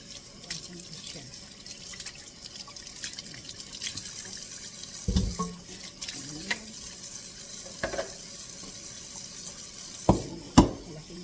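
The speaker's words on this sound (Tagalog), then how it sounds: "Lagyan ko siya ng tubig para palambutin ko siya." Tap water running into a pot holding raw chicken legs for soup, a steady close rush of water with a few clanks of the pot against the sink.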